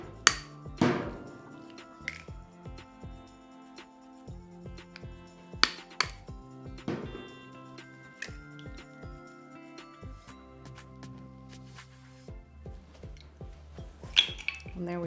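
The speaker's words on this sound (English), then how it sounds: "Let's separate our eggs. We're gonna put the whites in this dish." Eggs being separated into dishes for a banana cream pie, with a string of sharp clinks and taps of shell and utensils against glass or ceramic, close and moderately loud, over a quiet kitchen.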